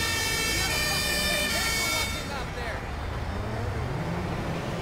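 Fire engine siren in the GTA 5 video game wails continuously with rising and falling tones, fairly faint under a dense traffic and engine bed.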